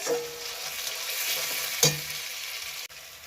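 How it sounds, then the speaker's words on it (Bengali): Spice paste for chicken curry frying in hot oil, a steady close sizzle with soft stirring scrapes and one sharper clatter near the end, no voices. "তেল দিয়ে ভালো করে মশলাটাকে কষে দেখুন মশলাটা পুরোপুরি কষা হয়ে গেছে"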